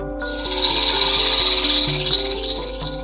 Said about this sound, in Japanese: カード柄消失音。